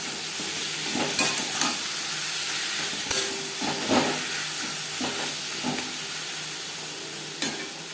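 Ginger and green chili paste frying in hot oil for a mutton liver and potato curry, a steady close sizzle with intermittent scraping stirs of a spatula in the pan.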